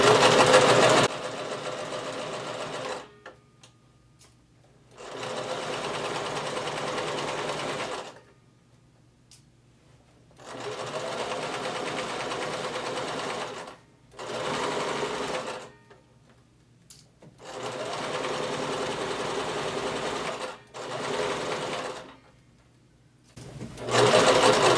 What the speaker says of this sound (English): Lower your needle, begin sewing, and backstitch, and keep sewing all the way down till you reach the end of the pocket